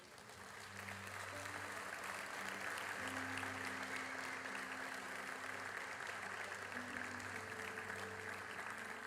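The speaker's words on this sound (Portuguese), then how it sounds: "Você pode dar um aplauso a Jesus?" A church congregation applauds, with sustained crowd clapping that builds quickly and holds steady over a low tonal hum of music.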